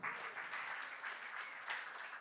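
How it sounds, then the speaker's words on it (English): Continuous applause from an audience at a social media convention, many hands clapping in a dense, even texture with small surges. "Clap for KQ."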